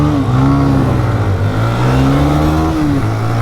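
Hero Xtreme 125R and TVS Raider 125 motorcycles accelerating hard in a drag race, loud close engine roar climbing in pitch, dipping briefly at gear changes, then rising again.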